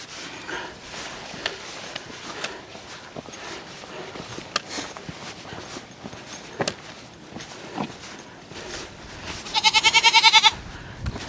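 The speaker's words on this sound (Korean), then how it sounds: "큰 염소랑 새끼 염소야" Goats bleat on a mountain trekking path, a large adult goat with a young kid, giving brief scattered calls and one louder rapid quavering bleat near the end, with faint footsteps.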